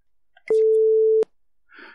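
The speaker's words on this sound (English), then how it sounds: "that's just a sine wave that I just generated on my computer" A computer-generated sine wave plays as one steady pure tone lasting under a second, loud and clean with abrupt start and stop, with faint clicks before and after.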